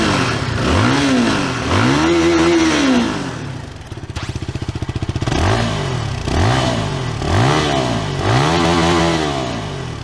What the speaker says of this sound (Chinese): 这台车的排气声浪呢，还是一个标准的单缸250的水准